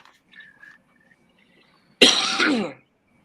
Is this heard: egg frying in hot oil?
no